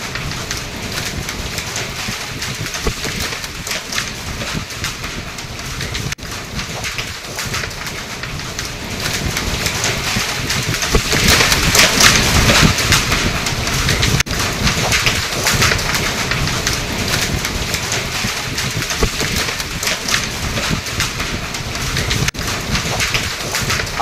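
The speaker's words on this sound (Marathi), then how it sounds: "वादळी वाऱ्यासह जोरदार पाऊस रायगड जिल्ह्यामध्ये झालेला आहे।" Heavy unseasonal rain with stormy wind and hail pours down in Raigad district, Maharashtra, a dense, steady hiss of downpour that swells louder around the middle and stays strong to the end.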